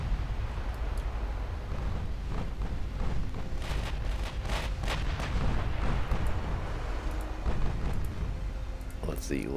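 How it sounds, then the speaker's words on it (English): Sixteen-inch battleship guns fire in the naval game Ultimate Admiral Dreadnoughts, with several heavy booming salvos in quick succession over a continuous low rumble, while someone talks throughout. "The 16-inch guns are doing a very good job."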